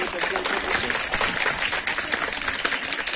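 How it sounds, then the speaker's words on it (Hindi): Audience applause at a children's day and birthday celebration, dense steady clapping filling the whole stretch with some voices mixed in. "ताली"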